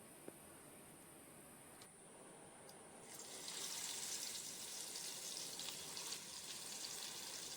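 Rohu fish pieces seasoned with salt and turmeric fry in a karahi, building from a quiet hiss into a steadier, fuller sizzle midway, faint and close with no talking.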